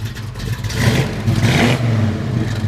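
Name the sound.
1957 Chevrolet engine revving with headers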